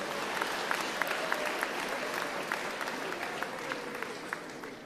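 An audience claps for a matric class's perfect pass rate, a continuous, moderately distant wash of many hands applauding with scattered sharper claps standing out, steady throughout.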